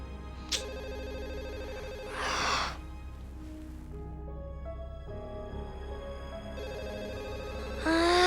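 A telephone rings faintly in short bursts, with quiet gaps between rings and a low background hum.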